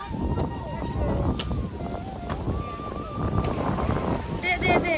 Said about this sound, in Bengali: ঝড় দিচ্ছে দেখো কি ঝড়